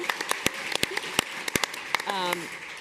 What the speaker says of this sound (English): And round of applause for Bjorn